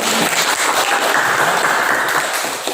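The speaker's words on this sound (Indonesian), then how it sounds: "Tepuk tangan untuk kelompok" Classroom applause for a student discussion group, a short burst of clapping from the class that stays fairly even and tapers slightly at the end.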